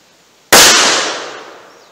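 A single sharp, loud shot from a .38 Special revolver with a 2-inch barrel, fired single action, rings out and its echo decays over the next second and a half.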